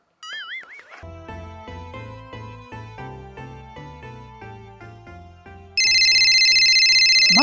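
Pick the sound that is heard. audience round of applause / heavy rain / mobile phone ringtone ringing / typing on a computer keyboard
mobile phone ringtone ringing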